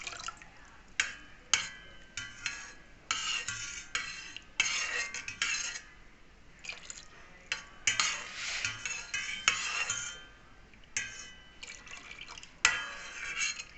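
A cheese mixture stirred steadily into milk in a pot: close, irregular clinks and scrapes of a utensil against the vessel with soft liquid sloshing, continuing throughout.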